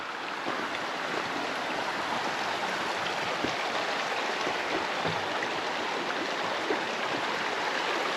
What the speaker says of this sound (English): Water's rolling good.